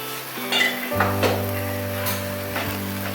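Beef frying in a pan in a home kitchen, giving a steady close sizzle with a few clinks of utensils against cookware and stirring noises throughout.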